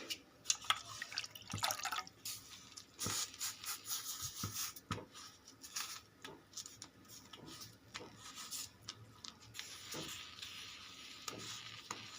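Water being rubbed onto a sorghum flatbread on a hot griddle: soft wet rubbing and dripping sounds close up, irregular light slaps and smears with quiet splashes, no talking.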